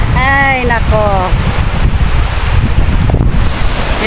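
Wind buffets the microphone with a steady roar as sea waves wash in at Tung Fuk beach on Lantau Island, a constant broadband rush throughout, with a brief faint whistle-like tone near the start.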